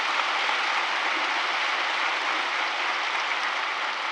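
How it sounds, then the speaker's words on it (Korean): A large congregation applauds at the 2022 Easter union worship service at Yeouido Full Gospel Church, making a dense, even roar of clapping that holds at a steady volume throughout, like heavy rain. "아울러서 박수 한번 해주시면,"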